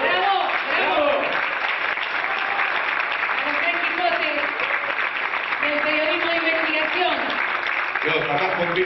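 Loud, dense applause from an audience at an award ceremony, steady throughout, with voices calling out over the clapping.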